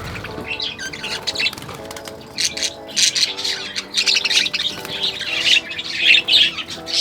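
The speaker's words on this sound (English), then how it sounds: "Within minutes, they started exploring, nibbling, chirping, like they knew this was where they were meant to be" Budgies in a flock chirp and squawk continuously, with busy overlapping high calls and rattling chatter that swell louder toward the end, close by and with no talk over them.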